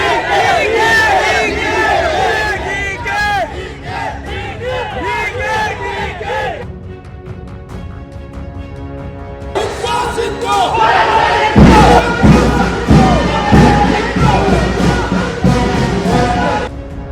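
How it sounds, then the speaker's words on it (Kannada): Rival crowds of political supporters in Mangaluru chant loud slogans for Siddaramaiah and DK Shivakumar. The shouting is dense and sustained, eases briefly in the middle and then swells again with thumping beats and cheers. "ಒಂದು ಬಣ ಸಿಎಂ ಸಿದ್ದರಾಮಯ್ಯ ಪರ ಘೋಷಣೆ ಕೂಗ್ತಿದ್ರೆ ಮತ್ತೊಂದು ಬಣ ಡಿಕೆ ಶಿವಕುಮಾರ್ ಪರ ಜೈಕಾರ ಹಾಕ್ತಿದೆ"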